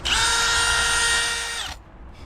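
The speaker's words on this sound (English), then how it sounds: "Use your drill bit." A power drill whines loudly at a high, steady pitch for about a second and a half, then cuts off abruptly, drilling during roof catwalk fitting on a Renault truck.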